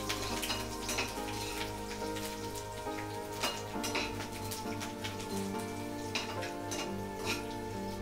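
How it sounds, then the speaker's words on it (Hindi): Garlic and ginger go into a hot tadka of cumin and asafoetida for dal fry, setting off a lively crackling sizzle with sharp spitting pops scattered throughout, close by and with no talking. "अब मैं उसमें लहसुन और अदरक डाल रही हूँ"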